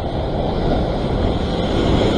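Surf washing in at a rocky shore near Long Reef, Sydney during float sea fishing, a steady loud broadband rush of breaking waves with wind buffeting the microphone throughout, no voices.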